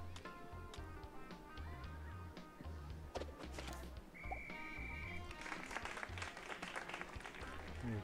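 Spectators applaud at a sports event in the Two Point Campus video game: a dense, steady clatter of clapping with scattered taps and whistle-like tones, plus a brief tonal blip, continuing at an even level throughout.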